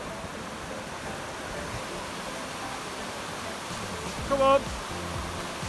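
Steady broadband rush of river water at a night crossing during a Three Peaks challenge in the UK, continuous and fairly loud throughout, with a brief voice calling out near the end.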